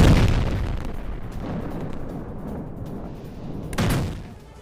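Israeli air strikes pound the Beitlif area of southern Lebanon, a heavy rumbling boom fading into a long low roar, then a second blast follows near the end, loud and reverberant.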